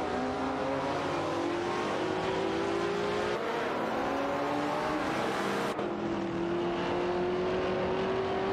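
Several race cars in a video game race overtake one another, their engines droning steadily with rising and falling pitch as the field jostles for position, loud and continuous with no voices.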